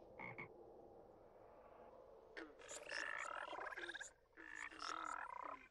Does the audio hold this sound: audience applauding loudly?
no